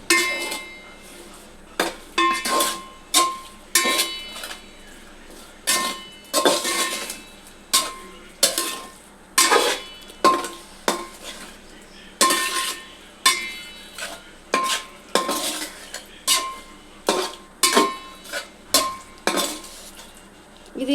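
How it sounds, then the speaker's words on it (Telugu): Metal spoon repeatedly scraping and clanking against a pot while egg biryani with fried onions is mixed, a steady run of loud, close clinks and scrapes in a rhythmic pattern with no talking. "ఇప్పుడు ఇందులోనే ఫ్రైడ్ ఆనియన్స్ కూడా వేసుకోవాలి ఇవన్నీ కలపాలి మంచిగా"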